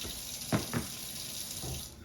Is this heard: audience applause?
no